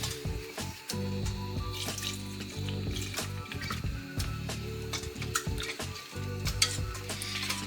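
A spoon stirs through a simmering pot of tomato sauce for lasagna with soft scraping and bubbling, steady and close, alongside a gentle sizzle and low kitchen hum.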